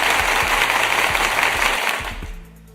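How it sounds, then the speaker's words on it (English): One person claps steadily and close by, a dense roar of applause-like noise with a low thumping beat that fades out near the end. "Let me clap again."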